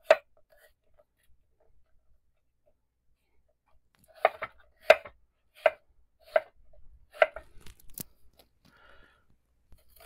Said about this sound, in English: So I think I'll cut this again into a quarter and cut it into chunks like so.